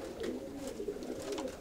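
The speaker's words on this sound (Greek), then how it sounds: "Ωραία ψιλοπόδαρα περιστέρια, πεντάμορφα." Pigeons in a loft give soft, steady low cooing, a continuous murmur of several birds close by with no talk over it.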